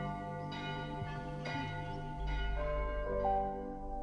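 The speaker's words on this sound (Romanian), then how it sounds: "clopotul bate de sfânta liturghie" A church bell rings for the holy liturgy, its sustained tolling layered with long humming overtones and a swelling low resonance toward the end, with no voices present.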